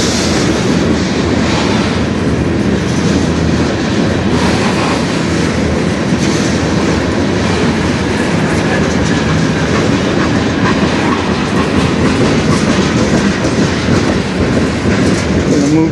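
A small freight train rolls by at close range on the Strathroy Subdivision, its cars producing a loud, continuous rumble with rhythmic wheel clatter over the rail joints.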